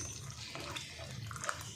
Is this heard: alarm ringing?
no